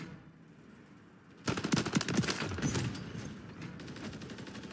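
Sustained automatic gunfire in a first-person shooter video game erupts suddenly after a quiet start, a loud rapid burst of shots that continues as a dense rattling stream to the end.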